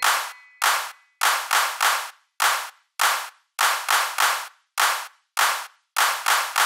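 Sharp hand claps in an irregular rhythm, single claps and quick pairs, loud and close with short silences between them.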